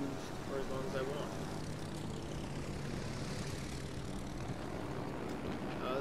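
Droning propeller aircraft engine at boost in the naval game World of Warships Legends, a steady dense rumble holding evenly throughout at moderate volume.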